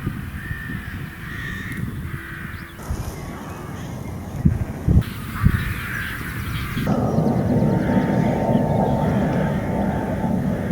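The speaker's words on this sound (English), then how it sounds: "I think these are mostly jackdaws that we've got coming in around here." Jackdaws and crows caw and chatter around a countryside field during rabbit shooting, a steady busy flock calling at middle distance with a broad rushing background of wind or distant aircraft.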